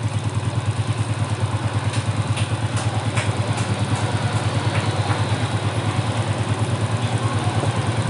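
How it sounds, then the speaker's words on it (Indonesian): A motorcycle engine idles close by with a steady, even, rapid putter that stays loud and constant throughout, alone with no talking. "Nih kalian bisa dengarkan sendiri suara mesinnya, enak kan?"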